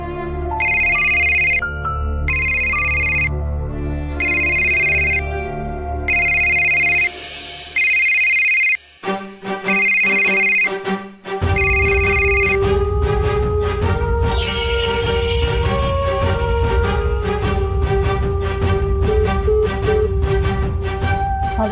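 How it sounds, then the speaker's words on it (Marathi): A mobile phone ringtone plays in repeated bursts of bright melodic tones with short gaps, then gives way to a continuous musical passage; loud and close, no talking. "फोन वाजत होता म्हणून घेतला मी"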